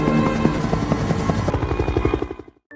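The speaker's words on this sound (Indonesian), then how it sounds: "akan berangkat hari ini menggunakan sebuah helikopter" A helicopter's rotor throbs in a fast, steady chop close by, the rhythmic beating running for a couple of seconds before cutting off.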